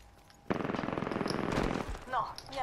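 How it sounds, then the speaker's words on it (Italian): Rapid automatic gunfire in the video game Apex Legends: a loud, dense burst of evenly spaced shots for over a second, then quieter chirping effects trailing off. "Mi sparano addosso."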